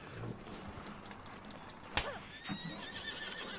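Horse in Red Dead Redemption 2 whinnying as it is struck: a sharp smack followed by a shrill, falling neigh, with faint hoof clatter and game ambience underneath, fairly quiet overall.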